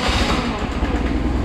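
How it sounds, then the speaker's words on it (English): BMW R1100GS boxer-twin motorcycle, fuel-injected and sitting unused for three months, running steadily with a low, dense engine rumble that fills the short moment, close and fairly loud, no voices. "give it a bit of throttle, and there she blows."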